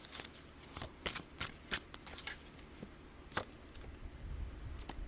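Tarot cards being shuffled and drawn during a Gemini reading, a run of sharp riffling snaps and flicks at irregular intervals, close and moderately loud with no speech.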